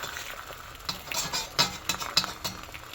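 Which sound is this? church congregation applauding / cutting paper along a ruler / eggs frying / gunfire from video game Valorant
eggs frying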